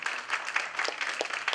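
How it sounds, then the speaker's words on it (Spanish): An audience claps steadily in a dense, continuous patter of applause that fills the room at an even level, with no voice heard over it. "Venga ese aplauso fuerte para las que hoy"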